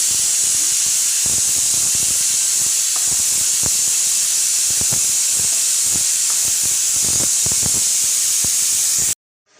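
A pressure cooker on a kitchen stove lets off a continuous loud, high hiss of escaping steam with faint irregular rattling beneath it, cutting off abruptly at the end.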